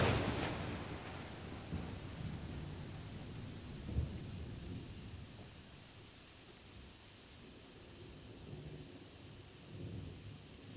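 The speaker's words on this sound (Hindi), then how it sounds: "तो साहिर भाई आप बारिश में क्या करते हैं?" Steady heavy rain hisses throughout, with a deep thunder rumble rolling in near the middle and fading away; no voices.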